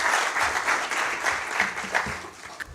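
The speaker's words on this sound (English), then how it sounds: "A round of applause to her" Audience applause at a corporate 2022 sustainability report launch, steady clapping from a room of people lasting a few seconds as a presenter is welcomed to the stage.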